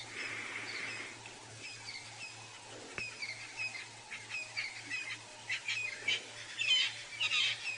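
A dawn chorus of birds on an African safari morning drive: several birds chirp, squawk and call in overlapping bursts at moderate distance, with a low steady hum underneath.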